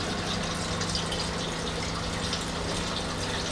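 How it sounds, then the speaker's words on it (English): Fuel pouring from a 5-gallon can into a repaired, previously leaking fuel tank, a steady hissing gush of liquid with a low hum underneath, continuous and fairly close, no talk. "Assuming you hear it pouring in the tank"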